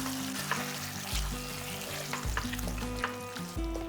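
Spice paste frying with chopped tomatoes in a pan for a Bengali fish curry, a steady close sizzle with scraping stir strokes repeating every second or so, no voices.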